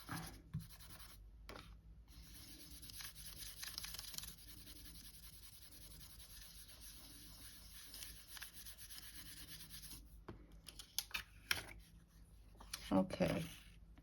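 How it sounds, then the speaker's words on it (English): Quiet rubbing and scraping as transfer foil is burnished down onto polymer clay, soft intermittent strokes close up with brief pauses and a few louder scratchy passes near the end. "Now I'm just burnishing that down."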